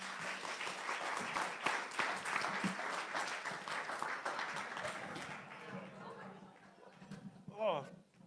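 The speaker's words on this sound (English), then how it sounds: "Everybody, big round of applause for Steve." Audience applause at a live event, dense sustained clapping from a crowd that fades out after about six seconds, followed by a brief voice.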